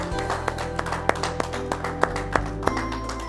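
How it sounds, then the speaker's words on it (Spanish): A church congregation claps together in a steady rhythm, sharp beats falling every third of a second over sustained musical tones, fairly close and moderately loud. "un aplauso a Cristo, un aplauso a Cristo."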